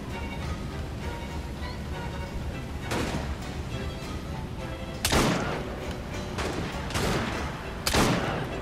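Gunfire in the video game Assassin's Creed Syndicate: several sharp, loud shots spaced a couple of seconds apart, each cutting through a dense, busy background of battle noise.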